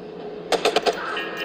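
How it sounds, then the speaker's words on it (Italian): Gunshots in the video game Watch Dogs: four quick, sharp cracks in a tight burst, moderately distant over a steady background hum, with no voices. "Sento degli spari."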